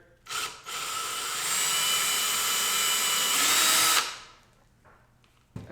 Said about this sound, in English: then what I'm going to do is pre-drill a hole through there